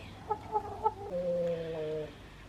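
Backyard garden chickens cluck close by, three quick clucks followed by a longer drawn-out call, no talking.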